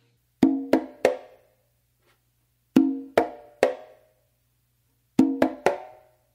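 Conga and quinto play a repeating three-stroke figure of ringing tones and sharp close slaps, heard three times with pauses between groups, close and dry.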